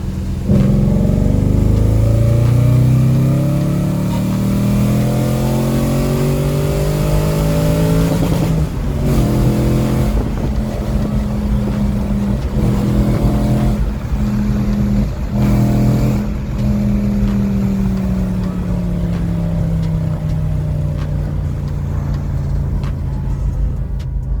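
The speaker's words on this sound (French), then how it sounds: "je vous laisse écouter un peu la sonorité du moteur" Audi RS4 engine with an aftermarket full exhaust revs loudly and steadily, its pitch climbing and falling across sustained pulls through the gears, with brief dips around shifts and no talking.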